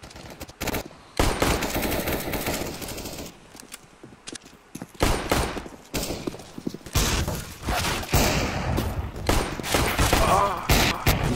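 Rapid automatic gunfire from Counter-Strike: Global Offensive, dense bursts and fusillades with brief pauses, loud and close, mixed with scattered impacts and occasional footsteps.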